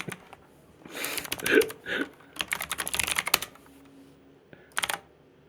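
Bursts of typing on a computer keyboard, quick clattering runs of keystrokes with pauses between them, heard close and fairly quiet.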